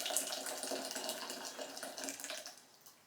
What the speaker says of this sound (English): so what I'll do is I'll just put this water in like so.